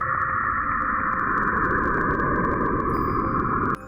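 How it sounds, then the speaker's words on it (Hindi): Sonified space recording of the planet Uranus, a steady, dense roaring like strong wind that holds at an even level before dropping off sharply near the end, with no voices. "ये है यूरेनस का साउंड।"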